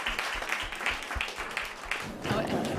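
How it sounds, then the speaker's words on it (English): Applause from an audience at a workforce development policy forum, steady clapping throughout with a slight swell near the end, voices talking underneath. "Please, everybody, help us give a round of applause"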